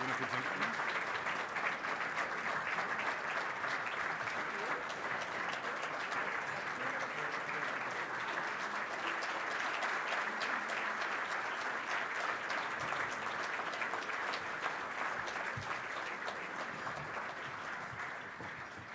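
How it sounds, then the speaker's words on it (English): Audience at a scholarship awards dinner rising to its feet in sustained, dense applause, steady and full for the whole stretch before tapering slightly at the end. "thank all of my staff who's in the room for standing up and clapping for me"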